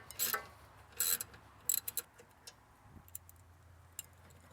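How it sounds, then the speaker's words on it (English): A socket wrench ratchets a sticky brake slide pin loose on the rear brakes of an E34 BMW, giving a few quick clicking bursts and then sparse faint ticks, close and quiet with no talking. "the socket wrench can be useful when they're a little bit stickier"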